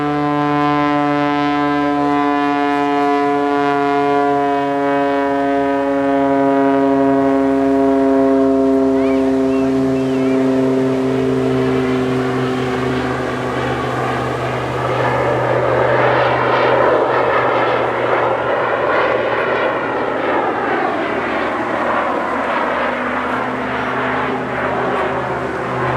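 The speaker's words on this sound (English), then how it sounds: "Here he comes in now, dipping in, going sideways, smoking on." A Jet Pitts Special aerobatic biplane flies past at an English Riviera airshow, a loud sustained droning roar with a rising and falling whine that swells as it nears and sweeps by.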